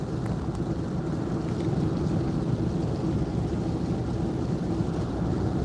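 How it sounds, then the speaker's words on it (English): Rain falling around a car moving on the road, a steady dense hiss and patter blended with low road rumble, constant and close, with no voices. "I don't know if you guys can hear the rain coming down around us or not."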